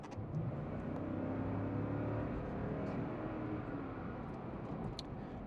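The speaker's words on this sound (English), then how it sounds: "going up a hill, you're gonna have to shift down a gear and rev it out." A naturally aspirated 4.6 liter V8 Lexus GX460 with a six-speed gearbox climbs a hill, heard from inside as a steady, muffled engine drone that rises in pitch as it revs, with no talking.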